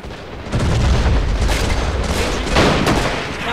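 Heavy battlefield gunfire and booming artillery in a Men of War: Assault Squad 2 war game mission, loud and dense throughout, with a brief lull near the start before sustained volleys and a louder burst later.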